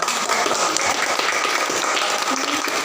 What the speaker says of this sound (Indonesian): Tepuk tangan untuk tinta